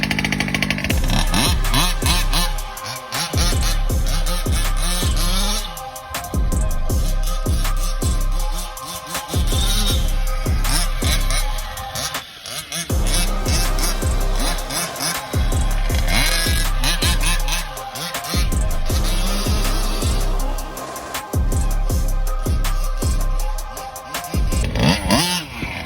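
A gas-powered 1/5 scale RC truck engine runs loud and close, buzzing and revving in repeated bursts with a constant raspy two-stroke drone throughout.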